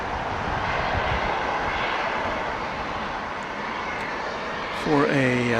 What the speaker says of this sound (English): There is a Lufthansa A350-900, flight 45.